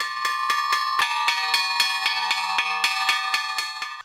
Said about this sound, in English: It's amazing that the pigs respond to the sound of the bell.